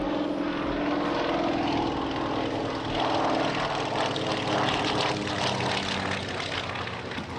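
A propeller airplane drones steadily and loudly throughout, its engine hum constant with a slight swell partway through.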